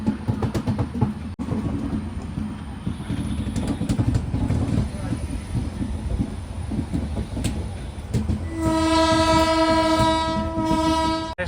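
A weekly express train on the Kacheguda line rumbles past with loud, steady clatter, and a long blaring horn sounds near the end. People talk under the noise.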